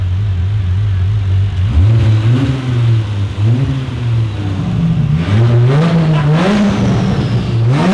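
A turbocharged Holden XE engine revs repeatedly, its pitch climbing and falling in surges with a strong turbo whir, loud and close, no talking.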